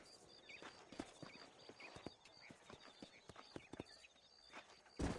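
Hooves clip-clop in a brisk, uneven rhythm of several horses walking in the video game Red Dead Redemption, with a short whinny near the end over a faint outdoor ambience.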